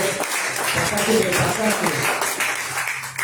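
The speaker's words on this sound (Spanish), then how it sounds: "Dale un aplauso al Señor" A church congregation applauding, a dense, continuous patter of many hands filling the room, with a voice speaking over it.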